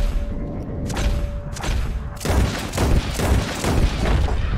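Red Dead Redemption 2 gunshots at flying birds: a few loud booming reports, then a quick cluster of heavy thudding shots, close and punchy.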